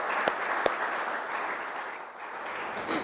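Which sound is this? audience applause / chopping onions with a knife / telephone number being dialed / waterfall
audience applause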